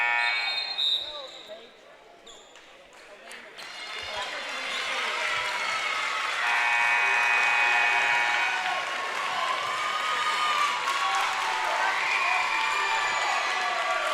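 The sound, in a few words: basketball crowd applauding players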